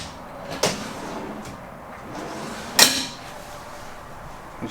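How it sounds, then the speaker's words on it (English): Two sharp clunks of solid drawers in an aluminum RV toy-hauler garage being shut, one near the start and a louder one midway, against a quiet room hum. "These are solid drawers."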